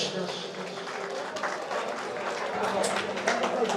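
Wedding guests at a couple's reception applaud for a singer, a continuous wash of clapping and crowd noise in a hall, with voices mixed underneath throughout.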